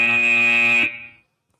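Match buzzer at a VEX robotics competition, a single loud, steady electronic drone that holds for nearly a second and then cuts off with a short decaying tail.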